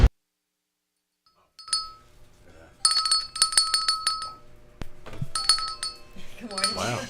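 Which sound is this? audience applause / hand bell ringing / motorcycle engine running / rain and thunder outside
hand bell ringing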